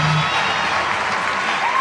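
Broad, steady roar of a large stadium crowd cheering and applauding as Usain Bolt is introduced before the 200m at the 2011 Diamond League meeting in Oslo, sustained and loud throughout with no break.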